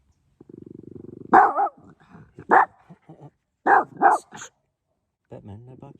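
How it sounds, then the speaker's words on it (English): Dog named Batman barks several times close by, loud separate barks with a low growling rumble before them and quiet gaps in between. "No barking."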